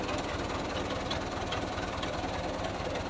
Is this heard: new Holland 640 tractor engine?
yes